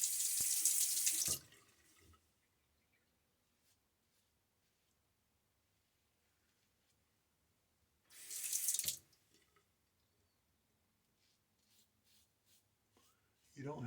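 Running tap water fills one basin of a double sink during a wet shave, two loud rushing bursts of about a second each, separated by a long near-silent stretch with faint handling noise.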